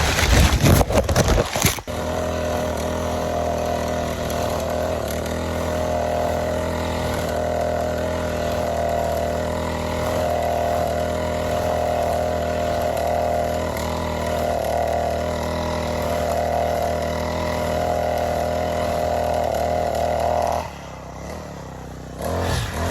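A gas-powered grass cutter engine drones steadily and loudly for about twenty seconds while cutting grass, then cuts off near the end, with no talking.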